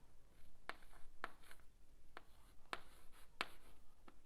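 A pen writing on paper, sharp scratchy strokes in a sparse irregular rhythm, close but quiet, with soft rustling between strokes and no talk.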